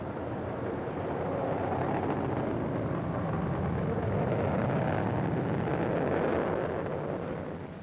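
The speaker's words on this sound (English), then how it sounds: "Liftoff came at 3:46 Eastern Standard Time" A Gemini Titan 12 rocket lifts off, producing a deep, continuous roaring rumble that swells and stays heavy throughout, then begins to ease off at the very end.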